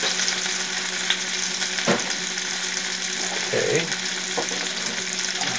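A large batch of onions cooking in plenty of oil for migas gives a loud, continuous sizzle with a few utensil knocks, close up, while a voice briefly speaks.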